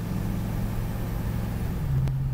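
A car cruises down a rough road through a commercial area, with a steady low engine and road rumble from inside the cabin and a slight rise in engine tone near the end.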